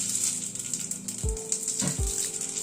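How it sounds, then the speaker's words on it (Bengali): Radhuni spice seeds sizzling in hot oil, a steady bright hiss with a few soft thuds and clinks from the pan close by. "আর একটু তেল দিচ্ছি। তেলে প্রথমে 1/2 চামচ রাঁধুনি ফোড়ন দিলাম।"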